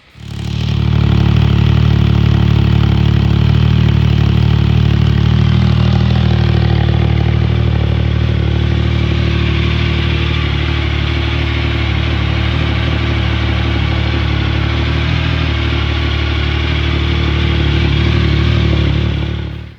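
A Triumph Speed Triple 1050 motorcycle engine idles steadily to warm its oil, a loud, close, continuous low rumble with a slight clatter that holds for about twenty seconds.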